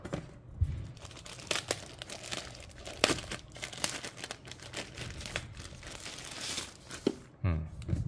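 Plastic packaging of a DJI Mini 3 Pro drone being torn open and crinkled up close, a busy run of crackling, ripping and rustling with sharp pops and soft handling noise.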